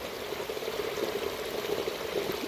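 Water carrying fresh cow dung runs through an irrigation channel in a field, a steady close-up gurgling flow with no pauses.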